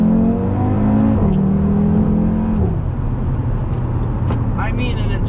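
Engine of a 2021 Audi TT RS accelerating on a curvy road, heard from inside the cabin: steady loud drone with rising pitch that drops at a gear change, then keeps pulling while a voice talks over it.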